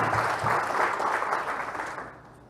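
Clapping from a church congregation during an Assembleia worship service, a broad wash of many hands that holds steady and then gradually fades toward the end.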